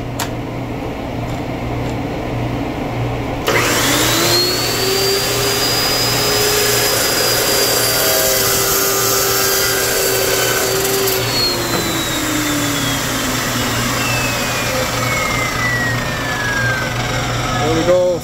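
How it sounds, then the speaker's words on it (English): A dry cut saw spins up and cuts through half-inch pipe for a soft water line, the whine rising, holding steady for several seconds and then winding down slowly. The cut is loud and close, over a constant background hum. "So I'm just going to cut it on the dry cut saw here."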